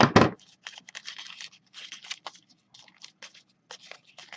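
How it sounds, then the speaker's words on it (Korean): Scissors trim leftover paper from a papercraft StarCraft SCV model, opening with a loud rustle followed by many short, close, crisp snips in an uneven rhythm over a quiet hum. "남는 부분 가위로 자르고"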